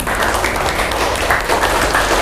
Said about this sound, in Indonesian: Tepuk tangan dong untuk kelompok 4